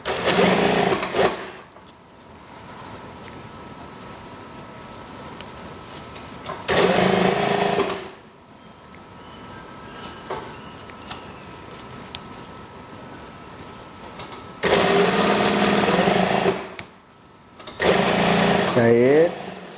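Sewing machine stitching the folded hem of a kimono-style house dress, heard in several loud bursts of steady mechanical whirring separated by quieter stretches with background noise.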